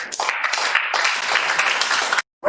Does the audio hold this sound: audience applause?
yes